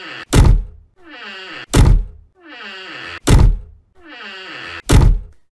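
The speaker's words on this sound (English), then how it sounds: "door open and door close sounds" A door in a Unity game opens and closes four times in a regular cycle, each a creaking swing ending in a loud, close thunk, separated by brief silences.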